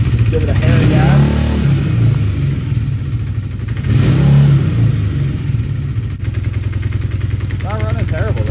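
A carbureted engine running on its last fuel, idling steadily with two short throttle blips that raise the revs, loud and close throughout.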